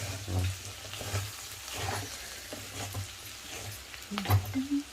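Potato and bean fry stirred in a pan: a soft, steady sizzle with scattered scraping clicks and a low background hum, a slightly louder knock near the end.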